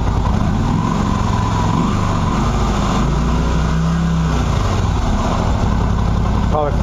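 A Qlink QBK 250 Adventure motorcycle idles after being started from sitting: a steady, close mid-pitched engine rumble with a faint whine. A brief rev near the end.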